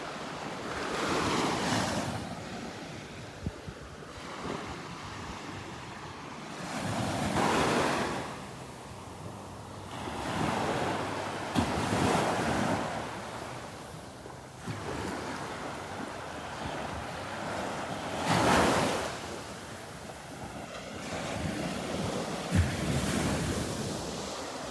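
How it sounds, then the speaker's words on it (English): Ocean waves roll in and crash on the shore at Delnor-Wiggins beach every few seconds, a steady rushing surf with some wind noise and no voices. "Love the sounds of the waves."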